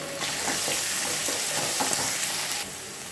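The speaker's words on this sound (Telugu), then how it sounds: "పచ్చిమిర్చి వేసుకోవాలి ఆనియన్స్ కరివేపాకు వేసి వేయించాలి" Green chillies, onions and curry leaves frying in hot oil, producing a loud, close, steady sizzle with a few soft stirring scrapes, the hiss easing off near the end.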